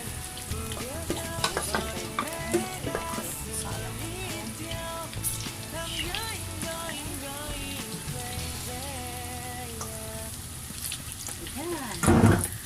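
A second batch of okra omelette frying in a pan, continuous close sizzling and popping oil with occasional stirring scrapes, heard under background voices and music, ending in a louder burst of sizzle.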